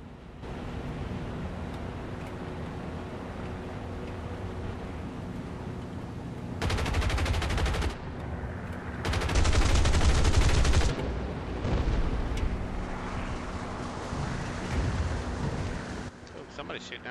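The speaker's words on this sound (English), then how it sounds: "Oh, somebody's shooting at me." Bursts of gunfire aimed at the player in the War Thunder combat game, loud volleys around the middle of the clip over a steady engine and wind drone, with sporadic shots later on.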